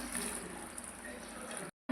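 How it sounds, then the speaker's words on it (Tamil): Water is poured into a cooking pot on a stove, over moong dal and greens for an Indian dish: a steady close splashing stream that stops abruptly near the end. "தண்ணி ஊற்றிக்கிடலாம்."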